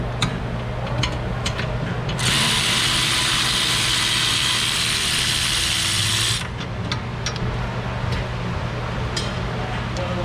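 Ratchet wrench backing out a caliper bracket bolt on a crash-damaged car, reached from underneath, with rapid close clicking and a long, bright grinding rasp partway through.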